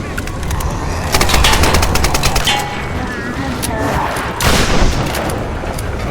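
Bursts of rapid gunfire from a suppressed weapon in the Tomb Raider video game, with rattling volleys near the start and again around the middle over game ambience.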